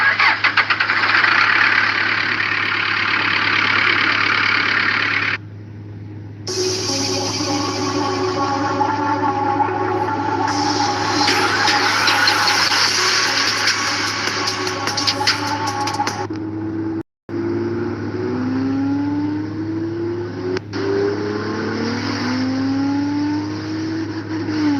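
A CBR engine, hot-wired, cranks over and starts, then idles roughly and revs up and down with a loud mechanical roar, briefly cutting out before it picks up again.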